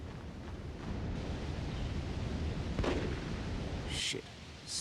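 Sniper gunfire in the PS2 game Cold Winter gives a couple of sharp shot cracks over a steady, rumbling background of distant fire and ambience.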